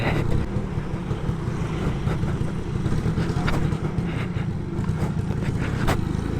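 Two-stroke motorcycle engine running short of oil while riding through Bengaluru streets near a metro station, a loud, close, continuous low rumble with wind buffeting the microphone.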